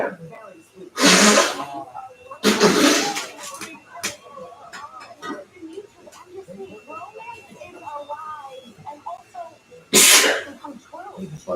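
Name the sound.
sneeze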